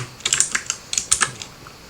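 Quick irregular keystrokes on a computer keyboard while deleting Python code, a close burst of crisp clicks and taps heard on their own.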